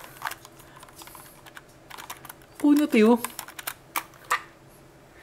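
Keys clack on an AULA F3287 budget mechanical keyboard, scattered clicky strokes in short bursts, with a voice talking briefly over the middle.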